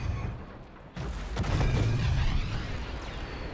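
In Star Wars Battlefront 2, a deep cannon boom hits after a low rumbling ambience, followed by a heavy sustained roar of explosions and rumbling.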